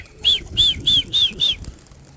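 A bird flies up and down among pigeons, giving five evenly spaced, close, bright chirping calls in a steady rhythm before falling quiet.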